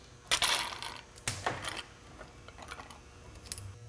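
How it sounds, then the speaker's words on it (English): Small metallic clicks and clinks of a cotter pin and nut being worked off the end of a Corvette slave cylinder shaft, a few sharp close ticks early on, then lighter scattered taps. "disconnect the cotter pin and the nut at the end of the slave cylinder shaft"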